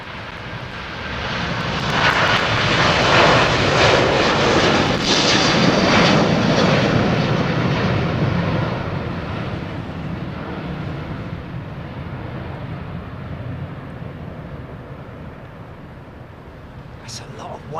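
A Boeing 787 with Rolls-Royce engines roars past at Heathrow, a broad loud jet rumble that swells, peaks and slowly fades into the distance, with voices talking over it.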